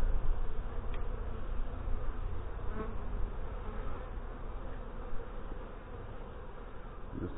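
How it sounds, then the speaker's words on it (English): Honey bees in an open hive during an autumn inspection make a dense, steady buzz that fills the space continuously at close range, with no voices. "there's a lot of bees in this hive"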